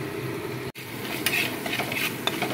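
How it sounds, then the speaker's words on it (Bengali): Whole cumin is stirred in hot oil for a chicken curry, giving a close, even sizzle with a brief break near the start, then light scraping stirs and a few soft clicks. "এবার এগুলোর একটু সুন্দর গন্ধ আসা পর্যন্ত একটু নাড়াতে চাড়াতে হবে।"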